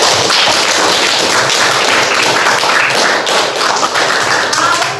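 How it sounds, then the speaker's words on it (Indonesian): A class of ninth-grade students claps in a classroom, a dense, steady patter of many hands continuing at even strength throughout. "Ibu berikan tepuk tangan untuk kelas 9 nih"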